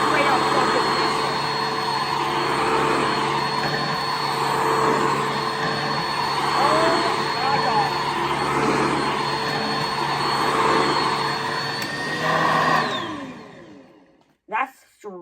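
A Sanitare SC679K upright vacuum cleaner runs loud and steady for about thirteen seconds, its motor giving a harsh, high, whining roar, then cuts off and spins down. A brief exclamation comes at the end.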